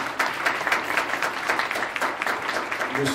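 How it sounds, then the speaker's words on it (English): An outdoor crowd at an MLK celebration march in Conway, Arkansas claps steadily, with individual sharp claps standing out from the continuous applause throughout. "please give a round of applause to Jeff and everybody that's made this possible here today"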